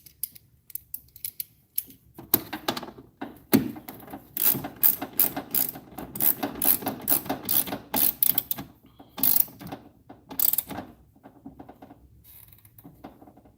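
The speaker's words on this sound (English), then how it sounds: "We're snugging them down, trying not to lose my socket in the process." A ratchet with a 10mm socket snugs down bolts on a GM 1.4L engine, producing close bursts of rapid clicking pawl ratcheting with short pauses between strokes.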